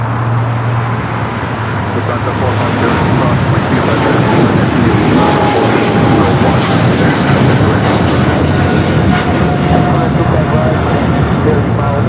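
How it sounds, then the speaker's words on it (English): British Airways airliner rolling down runway 25 right at LAX, a loud broadband jet engine roar building steadily as it accelerates, with a commentator talking over it. "British Airways now rolling down 25 right"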